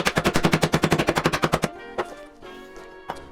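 Ice is crushed in a canvas Lewis bag by a rapid, loud volley of about twenty sharp blows, followed by a few separate, heavier strikes with pauses between them.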